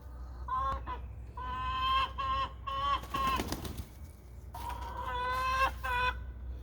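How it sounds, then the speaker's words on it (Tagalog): Several backyard chickens clucking and squawking in repeated bursts, fairly close, with a steady low hum underneath and short quiet gaps between calls. "These are our chicken."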